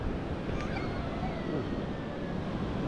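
Ocean waves wash steadily along a beach during rainy weather, a constant broadband roar of surf mixed with wind noise, with no talking.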